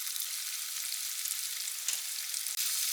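Small-cut chicken thigh pieces deep-frying in a pot of oil, a large batch, giving a steady, dense sizzle and crackle that runs throughout without pause or voices.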